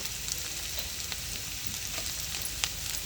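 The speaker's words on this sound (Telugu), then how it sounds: "ఇలా బాగా వేయించుకోవాలి." Chopped ivy gourd frying in oil in a pan, giving a continuous close sizzle with small crackles and pops and occasional light stirring, with no talking.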